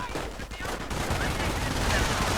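Gunfire crackles through a WWII video game battle with grenades being lobbed in, a dense, continuous wash of shots and blasts that stays loud and steady throughout.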